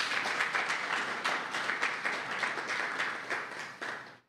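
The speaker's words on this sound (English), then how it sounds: "Let's give him a round of applause again" Audience at a homeowners showcase applauding after a presentation, a soft, steady patter of many hands clapping in a room, heard from a distance and fading out at the end.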